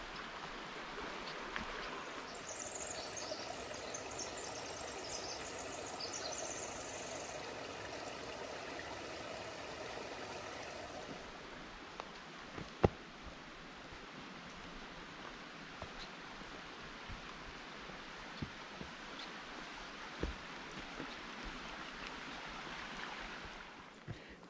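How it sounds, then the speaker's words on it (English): A mountain creek in the North Cascades rushes steadily beside a hiking trail on the way to Pyramid Lake, a broad continuous hiss of flowing water with occasional sharper splashes and taps, brighter in the first half and then softer. "we've been hearing the sounds of the creek the whole way"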